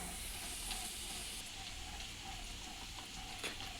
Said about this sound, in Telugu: అల్లం పేస్ట్ వేసా. ఇప్పుడు ఇది వేగాలి, పచ్చి వాసన పోయేంత వరకు